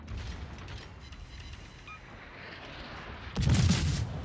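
Enemy warship gunfire in World of Warships, heard first as distant rumbling booms, then a sudden loud blast of incoming fire near the end.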